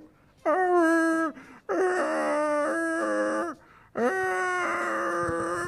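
Very young puppies in distress during a firefighter rescue in Maringá give three long, loud, high-pitched whimpering cries, each held for about a second or more, with short quiet gaps between them.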